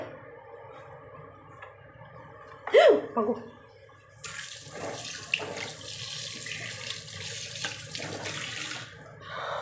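Koi and singi fish are washed one by one under running tap water, a steady splashing stream with handling clatter and a louder burst of water partway through.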